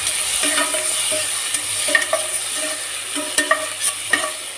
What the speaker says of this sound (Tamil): ஒரு தக்காளியை பொடியாக கட் பண்ணி வச்சுருக்கேன் அதையும் சேர்த்துக்கலாம் சேர்த்துட்டு நல்லா மிக்ஸ் பண்ணிக்கலாம்